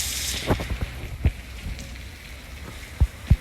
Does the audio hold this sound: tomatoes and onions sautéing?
no